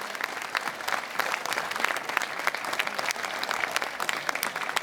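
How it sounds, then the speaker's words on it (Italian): A crowd in Piazza Manzoni, Jesolo, applauds dance performers after an evening show against violence, with continuous, even clapping from many hands heard at a distance throughout. "per loro vorrei sentire davvero un grandissimo applauso per questi grandi professionisti"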